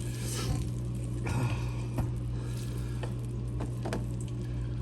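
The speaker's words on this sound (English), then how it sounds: "So you want to melt you a couple tablespoons of butter." A couple tablespoons of butter melt in a pan while cooking pork chops, giving a steady close sizzle and crackle with occasional small pops and a low background hum throughout.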